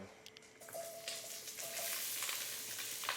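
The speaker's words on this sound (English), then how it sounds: "We got a nice sizzle that's going right now." Steady, bright sizzling of lemongrass chicken stir-frying in grapeseed oil in a hot pan, with occasional clinks and scrapes of stirring; no talking.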